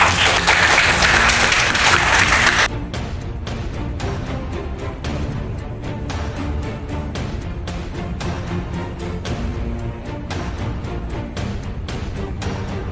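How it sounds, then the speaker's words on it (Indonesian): Students in a classroom clap together in applause, a dense burst for the first couple of seconds that gives way to softer, steady, scattered clapping continuing to the end. "Beri aplaus dulu sama Nurul kita."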